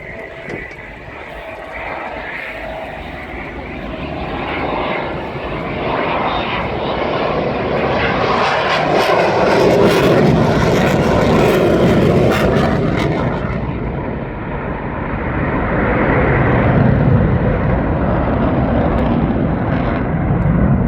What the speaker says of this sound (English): And it's a safe landing for the C-130.